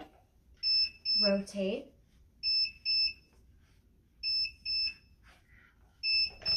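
A cheap sublimation heat press beeps in repeated pairs of sharp electronic tones, close and loud, with a person speaking briefly between them.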